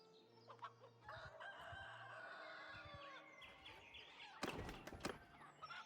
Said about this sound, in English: As soon as the rooster is done crowing